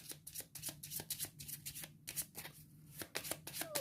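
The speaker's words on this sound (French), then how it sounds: "je mélange que ma défausse, pour reconstituer une pioche" A discard pile of playing cards being shuffled by hand during a solo card game, quick repeated riffling flicks in close, quiet bursts with no talking.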